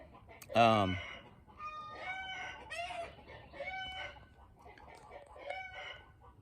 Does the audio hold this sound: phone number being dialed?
no